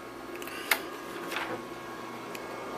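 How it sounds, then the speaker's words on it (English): Okidata Microline 395 24-pin impact printer running steadily at a low, even level, a sharp click near the start and a soft swelling whir partway through, with no talking. "It's a good little printer."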